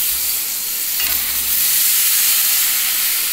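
Pieces of pointed gourd hitting a pan of potatoes already fried to a red colour, a loud, dense, steady sizzle and hiss filling the space up close, with no voices.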